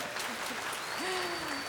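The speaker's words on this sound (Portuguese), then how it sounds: "Uma salva de palmas para o nosso pastor." A church congregation applauds for their pastor during his birthday celebration at a live service, a sustained, dense clapping that stays steady throughout with a faint held tone beneath it.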